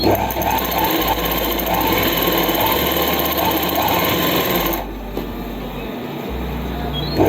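Sewing machine stitching the side seams of palazzo pants, a steady continuous motor whir running alone for most of the stretch, briefly easing off near the end before resuming.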